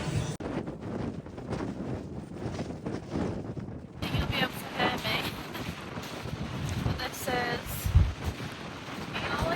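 Strong wind buffets the microphone on a beach in the Outer Hebrides, a constant loud rumbling roar with gusts. A person speaks over it briefly.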